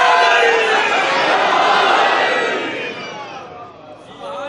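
An audience at an Islamic religious gathering loudly chanting a slogan together, a dense burst of massed voices that is strong at first and then fades out over a few seconds.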